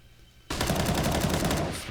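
CS:GO gunfire from a professional Fnatic vs SK match on Mirage at ESL One Cologne 2017: after a half-second lull, a loud, sustained burst of rapid shots erupts and rattles on without a break.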